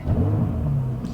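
A sports car, the one known as the Nurburgring King, fires up at a cars-and-coffee meet, its engine catching with a quick, aggressive rev that settles into a steady, loud rumble close by.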